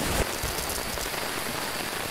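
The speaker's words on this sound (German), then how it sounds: "Eigentlich ist so ein Regengeprassel richtig schön." Steady rain patters on a surface in a video game, a dense, even hiss that holds throughout, close and fairly loud, with no voices.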